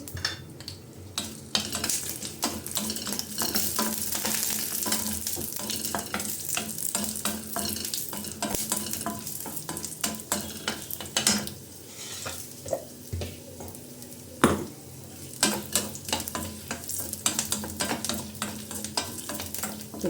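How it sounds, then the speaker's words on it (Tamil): Garlic cloves and dried red chillies sauté in hot oil, giving a steady sizzle with repeated scraping stirs of a utensil against the pan, close and clear throughout, with a few sharper clinks near the end. "காஞ்ச மிளகாயும் லைட்டாக வதக்கியாச்சு"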